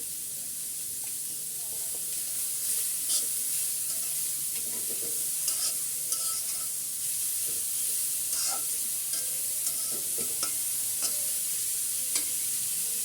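Mixed vegetables with a little salt cook in a pan before egg noodles go in, hissing and sizzling softly. A utensil clinks and scrapes at irregular moments throughout a long stretch with no talk.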